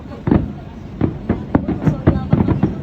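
Grand finale of a fireworks show in Koga, Ibaraki, with rapid successive bursts booming close by in quick uneven clusters while people talk over them.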